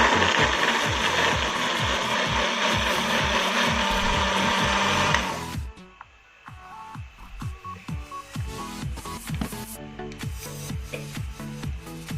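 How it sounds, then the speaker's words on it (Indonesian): A blender grinds spices with a little water, whirring loudly for about five seconds, then cuts off, leaving rattling, clicking mechanical noises as it winds down. "Ini bahan-bahan yang akan dihaluskan sudah kita masukkan ke dalam blender"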